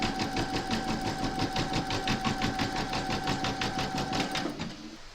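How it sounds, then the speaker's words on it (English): An embroidery machine stitches batting held in a hoop for reindeer slippers, running a fast, even mechanical rhythm of needle strokes for several seconds before winding down and stopping. "Pop your hoop into your machine and stitch round number 2 to secure it."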